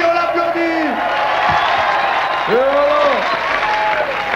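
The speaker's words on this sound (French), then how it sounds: "On l'applaudit, on l'applaudit." Applause from an audience at an evening show, with loud whoops and shouted cries rising over the clapping and voices calling out near the front throughout.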